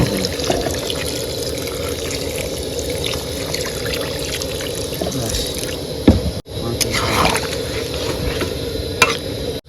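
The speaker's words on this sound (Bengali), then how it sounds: "একটু তুলে রেখেছি খাওয়াটা আর জল দিয়ে দিচ্ছি" Water pours into food in a pot, making a continuous close splashing, gurgling flow with a brief bump and stir partway through and faint voices in the background.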